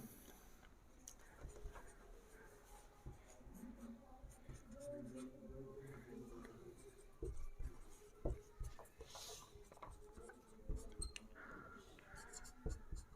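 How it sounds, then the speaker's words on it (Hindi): A marker or chalk writes on a board during a reasoning lesson, with soft scratchy strokes and taps. A teacher's voice talks quietly underneath. "यहाँ पे मैं लिख देता हूँ।"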